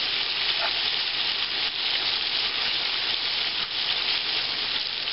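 Pork chops frying in oil on medium-high heat for smothered cabbage and pork chops, a loud, steady close sizzle with faint crackles and no voices.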